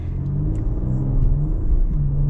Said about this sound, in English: This 3-liter twin turbo is quick.